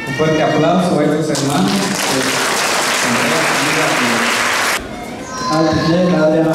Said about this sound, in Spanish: Un fuerte aplauso a estos